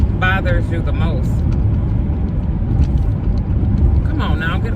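A car drives along a road behind a truck, its steady loud engine and road rumble filling the whole stretch, with someone talking briefly at the start and end.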